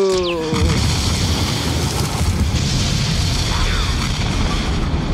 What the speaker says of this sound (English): Explosions are nothing to the Terminator body.